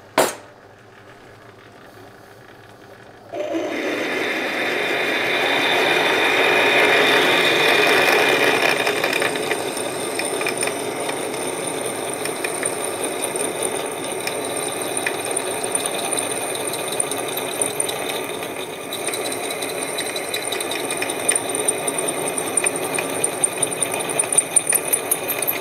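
A power drill bores through metal for a handmade fire poker handle, starting abruptly after a short quiet pause and then whirring and grinding steadily, close and continuous, with faint rattles until the bit breaks through.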